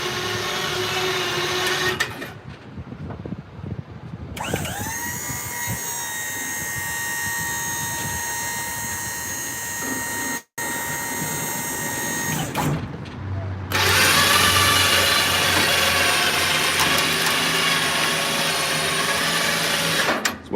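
A truck's hoist drags a heavy roofing dumpster loaded with shingles and plywood aboard, a loud, steady mechanical whine and drone that runs for long stretches with brief pauses between pulls.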